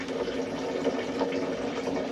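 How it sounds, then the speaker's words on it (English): A steady low hum of a water pump running, with water rushing and filling continuously underneath, no voices. "get the fresh water going for the coffee"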